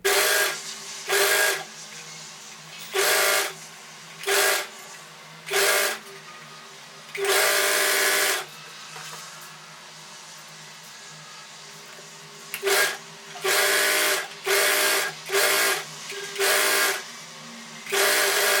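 A sewing machine stitches folded dress fabric in repeated bursts, loud close whirring runs of varying length separated by quiet pauses, one longer run in the middle, with no talking.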